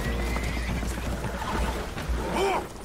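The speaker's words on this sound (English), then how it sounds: "Horses are spooked, and we're taking on water." Spooked horses whinny and neigh in Red Dead Redemption II aboard a leaking boat, rising cries over a constant noisy background of water and movement, with faint hoof clatter and no clear talk.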